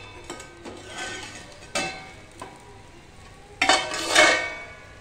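Metal lid lifted off a cooking pan over a faint sizzle, with several sharp clanks and rattles, the loudest near the end.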